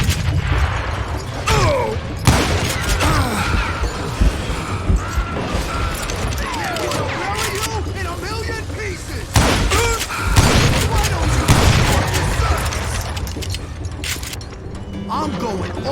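Gunfire in the Western shooter game Call of Juarez: Gunslinger, with repeated loud booming shots and crashes over a dense, busy mix of game sound and voices.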